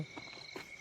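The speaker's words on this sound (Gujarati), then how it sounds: "તમે અવાજ સાંભળો છો, તમરા બોલે છે" Crickets chirping at night at an outdoor spot, a faint, steady high-pitched trill that holds continuously throughout, with no voices present.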